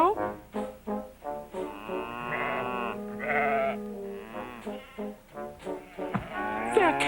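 Sheep bleating in a quavering, drawn-out series of calls, close and prominent, with several shorter cries toward the end.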